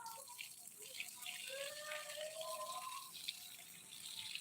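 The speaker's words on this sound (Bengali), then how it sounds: "এই যে গাছটা দেখছো আমি জল দিচ্ছি" Water pours from a can or hose onto a potted sapodilla plant, a soft steady splash and trickle at close range, with faint birdsong above and no talk.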